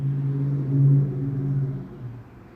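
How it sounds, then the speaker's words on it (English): Low traffic rumble from cars passing on a highway outside a roadside storefront, a steady near drone that swells briefly and then fades. "Sorry about the sound of all the cars going by."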